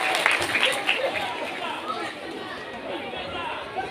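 Applause from a comedy show audience, a steady broad wash of clapping mixed with crowd chatter, fairly close and continuous throughout.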